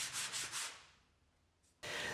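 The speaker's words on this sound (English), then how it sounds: "Here I sand the cross against a sanding block." Rhythmic rasping strokes of a small wooden cross rubbed on a sanding block, three quick passes, a quiet pause, then another loud stretch of sanding close by.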